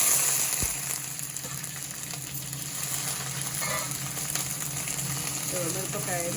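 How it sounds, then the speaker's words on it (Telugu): Green chilies sizzle in hot oil in a home kitchen pan, a steady close hiss that runs throughout with small crackles and pops. "ఇది ఇప్పుడు నూనె కాయగానే ఇక మిరపకాయలు వేసేస్తున్నాను"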